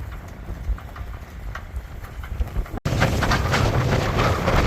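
Broadband wind noise rushes steadily on a sailboat at anchor, then after a brief cutout the roar jumps louder, buffeting the microphone in strong gusts of about 30 mph.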